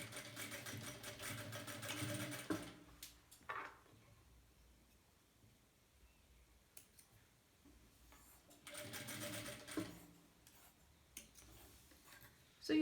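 Sewing machine running a reverse stitch on a two-layer cotton fabric mask; bursts of rapid mechanical whirring, close and clear, separated by quiet stretches with small clicks as the fabric is handled.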